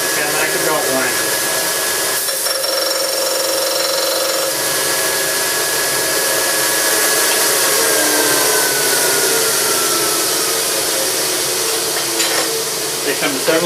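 Burr King Model 760 grinder running steadily, a continuous smooth high-pitched whine with faint shifting tones, loud and close.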